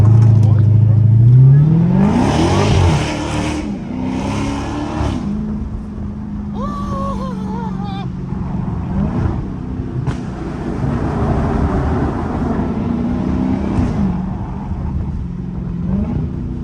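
Dodge Hellcat cars revving and accelerating hard through city streets, engine pitch sweeping upward, then rumbling pulls and passing roars, with people talking and shouting over the engines.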